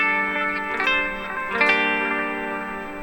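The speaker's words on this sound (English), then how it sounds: "playing clean guitars on the verse" Clean electric guitars play a simple strummed rhythm part on a song's verse through an Axe-Fx, with chorus and echo-like shimmer, steady and close with no talking.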